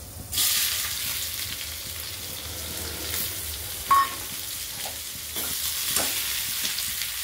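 Chopped onions sizzle and hiss steadily in a hot pan while a spoon stirs them, broad frying noise throughout with a few sharper scrapes and clicks, close and moderately loud, no talking.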